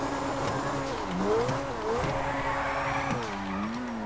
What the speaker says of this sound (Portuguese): somzão agora desse carro aqui tá bem bacana, velho